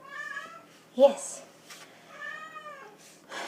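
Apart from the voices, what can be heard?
insistent cat meowing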